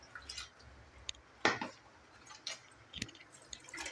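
Cold water is poured over boiled Hakka noodles to rinse them, with faint sparse drips, splashes and squishy handling sounds, quiet and close.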